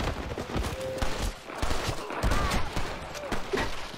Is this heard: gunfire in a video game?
yes